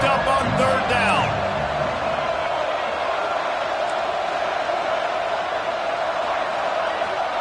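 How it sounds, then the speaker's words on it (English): Stadium crowd roaring steadily during a Washington vs Ole Miss college football game on third down, a dense, sustained wash of cheering with a sports commentator talking over it throughout. "crowd getting this defense whipped up on third down"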